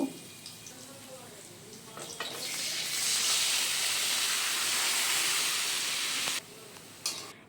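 Boiled taro leaves dropped into a pan of frying garlic set off a sudden loud, hissing sizzle that holds steady for several seconds and then cuts off, with faint kitchen clatter before and after.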